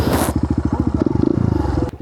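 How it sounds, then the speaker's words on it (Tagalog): A Kawasaki KLX motorcycle engine thumps nearby in a rapid, even pulse of low exhaust beats, quickening slightly as it revs, with a brief clatter at the start. "Ang gamit kong motor is Kawasaki KLX."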